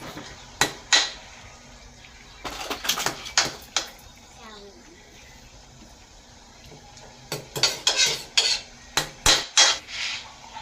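A spoon stirs chicken liver and gizzard adobo in a metal pan, bursts of sharp scraping clatter in two clusters separated by a quieter stretch, with a voice talking in between.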